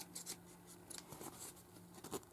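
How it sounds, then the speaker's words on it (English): Scissors make a few quick, crisp snips through fabric near the stitching of a fabric book cover, close and fairly quiet, in short separate cuts without talk. "you want to make a little snip"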